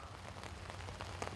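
Heavy pouring rain falls where a crowd has gathered outside the Brest fortress, a dense, steady hiss of drops spread evenly across the whole moment with no voices.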